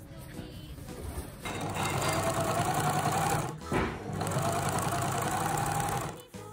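A sewing machine stitches a tear in a shower curtain, its rapid mechanical chatter starting after a second and running steadily up close, pausing briefly midway before resuming and then stopping.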